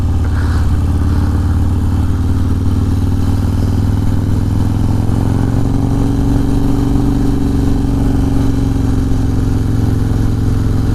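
A Harley motorcycle accelerating through its gears on a road, engine roaring continuously and close up, with deep rumbling exhaust and steady rising drive for the whole stretch, no talking.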